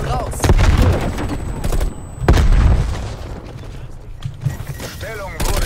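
A grenade goes off in Call of Duty Black Ops Cold War multiplayer, a loud boom followed by bursts of gunfire and a second heavy blast, with scattered mechanical clatter.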